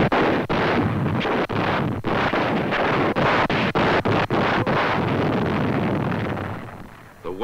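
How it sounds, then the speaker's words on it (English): A WWII naval artillery barrage: continuous loud roaring rumble of heavy guns firing, punctuated by sharp cracks at a steady, irregular pace, fading toward the end. "The pounding never halts. Only the toughest fortifications withstand such mass barrage."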